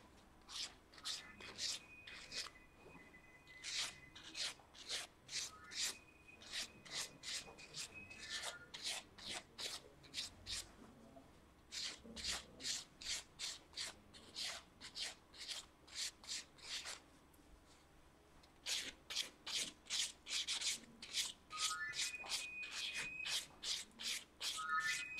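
A fingernail surface is buffed to remove its grease, giving repeated short rasping strokes in quick bursts, close and fairly soft, with brief pauses between sets and no talking.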